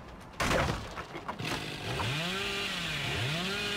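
Chainsaw revving in Dead by Daylight: after a few crashing hits, the saw winds up into a sustained loud whine with repeated rising and falling pitch sweeps.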